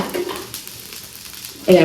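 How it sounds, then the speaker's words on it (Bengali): Brief sizzle of spices frying in a pan, with scraping stirs near the start and end. "এটা ভাজা ভাজা হয়ে গেছে, বেশি ভাজবো না।"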